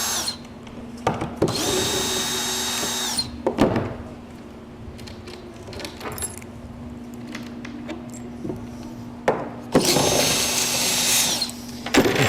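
A power drill backs screws out of plywood risers supporting a rail assembly on a workbench, in two loud bursts of whirring of a couple of seconds each, separated by quieter handling clatter and knocks.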